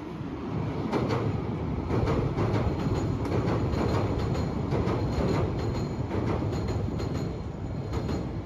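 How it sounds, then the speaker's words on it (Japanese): A Nose Electric Railway 1700 series electric train rumbling past near Tsuzumigataki Station, a steady loud roar of wheels on rails with faint clanks, running throughout without voices. "お、また列車がやってまいりました。 こちらは1700系のようですね。"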